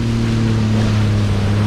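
A jet ski running at partial throttle on choppy Subic Bay, its engine a steady, close droning hum mixed with wind and water rush, constant and loud throughout.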